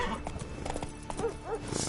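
Hooves of Roach, the horse from The Witcher 3, clip-clop at a gallop in quick rhythm, with a neigh or two and a voice urging it on over game ambience.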